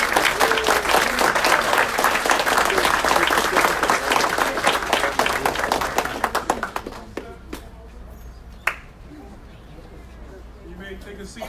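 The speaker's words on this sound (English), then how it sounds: "Let's have another big round of applause for the class." A class gives a big round of applause: dense, loud clapping fills the first seven seconds, then thins out and fades to a few scattered claps and quiet room noise.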